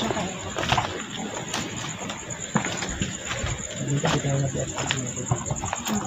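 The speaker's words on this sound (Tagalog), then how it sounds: "Kalapati." Pigeons cooing around an old public cemetery in Cavite, soft low coos that come and go amid rustling, scattered knocks and nearby people talking.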